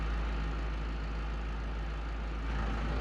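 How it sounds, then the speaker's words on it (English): A farm tractor's diesel engine runs steadily at close range, a loud low constant rumble with a dense mechanical drone and no pauses, without anyone speaking. "So we'll jump in the tractor"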